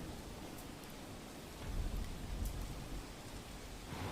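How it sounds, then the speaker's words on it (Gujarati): Heavy rain falls steadily at night during a thunderstorm in Ahmedabad, a dense wash of noise with a low rumble of thunder swelling midway, no voices. "કડાકા ભડાકા સાથે વરસાદ વરસ્યો અચાનક"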